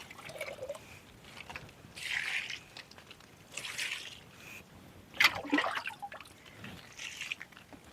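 Fermented dosa batter thinned into a liquid is poured onto chilli plants, giving soft intermittent splashes and trickles in separate bursts, fairly faint and close, with no talking.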